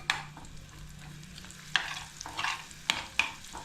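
Asafoetida and dry garlic chutney sizzle in hot oil for a Kathiyawadi gathiya curry, a soft steady fry with several sharp crackles and stirring scrapes, close and alone.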